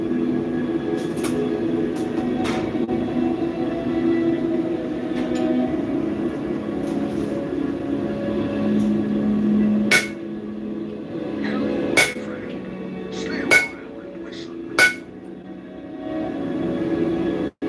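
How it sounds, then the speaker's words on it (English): A blacksmith's forging hammer striking metal: four sharp, ringing blows spaced roughly two seconds apart, standing out over a steady low background hum. "My forging hammer."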